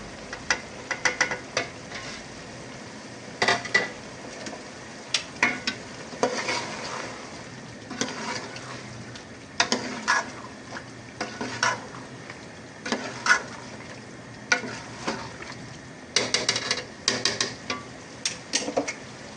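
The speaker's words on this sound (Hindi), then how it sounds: "मसाले की अच्छे से भुनाई करने के बाद अब मैं इसके अंदर चिकन को जो हमने फ्राई करके रखा था इसको ऐड कर देंगे" Fried chicken added to sautéed spices for chicken pulao, scraped and stirred in a pan with repeated clattering bursts of spoon against metal over a low continuous sizzle.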